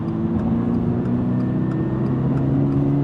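Toyota GR86 engine pulling steadily in fourth gear, a continuous mid-pitched drone with a rising note heard from inside the cabin, loud and unbroken with no talk.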